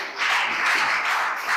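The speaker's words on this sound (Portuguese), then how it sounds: "Vamos aplaudir nosso Deus" A church congregation applauds during a worship service, giving a short, full burst of many hands clapping together at a steady, fairly loud level.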